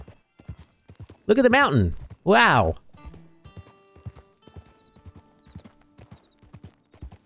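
Horse hooves clip-clop in Red Dead Redemption 2 with a loud whinny or two breaking in, the hoofbeats steady and close while someone talks over the ride.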